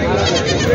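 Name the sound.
goat bleating at Osmanabad market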